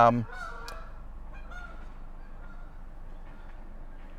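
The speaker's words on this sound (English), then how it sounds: "you hear the geese fly over?" A goose honks loudly at the start, then fainter honks trail off as geese pass over, with low rumbling background noise.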